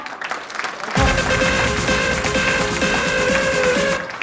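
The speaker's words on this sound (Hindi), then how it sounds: "चलो सभी के लिए एक बार जोरदार तालियां" Loud, sustained audience applause from a crowd, beginning abruptly after a second of quieter room sound and continuing evenly as dense clapping until the end.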